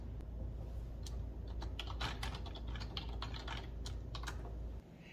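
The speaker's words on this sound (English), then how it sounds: "I'm going to do some typing on the keyboard" Soft, close typing on a Logitech K400 Plus wireless keyboard: irregular clicks and taps of keys in quick bursts, with no talking.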